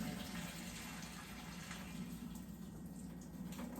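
Water being poured out of a Tupperware pasta cooker after the pasta has boiled, a steady, soft gushing stream that runs unbroken for a few seconds at a quiet level with no talk.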